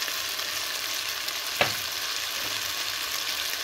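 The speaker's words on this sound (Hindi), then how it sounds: "मसालों के साथ भूनते हुए तकरीबन इसको एक दो मिनट हो गए" Ground cumin, coriander, turmeric, red chilli and chilli flakes roast in hot oil in a pan for bhindi masala, giving a steady close sizzle with one brief tap of stirring partway through.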